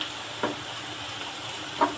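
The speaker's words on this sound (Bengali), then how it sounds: "পেঁয়াজ লালচে করে শুকনো করে ভেজে নেওয়া" Onions frying in hot oil until reddish and crisp, a soft continuous sizzle with two brief stirring clicks.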